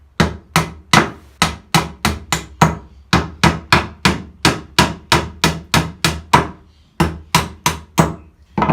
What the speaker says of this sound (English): knock the nails through when it's close to a brace